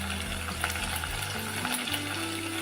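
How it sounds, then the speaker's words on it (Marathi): Coriander leaves sizzle steadily in hot oil as a tempering for a Maharashtrian pakat fish rassa, a close, continuous crackling frying sound with no voices. "फोडणीत आपण थोडीशी कोथिंबीर टाकणार आहोत"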